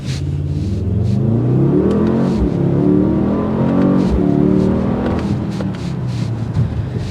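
A 2024 Mercedes-AMG GLS 63 SUV engine pulls hard under acceleration, a loud, close, rising roar whose pitch climbs steadily through gears for several seconds without any talking.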